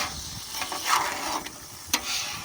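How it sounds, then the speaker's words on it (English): A metal scraper pushes food and grease across a Blackstone griddle outdoors, giving a few rasping scrapes with a sharper metallic stroke near the end, close and fairly quiet. "you give it a good scraping. Scrape off all the food and grease"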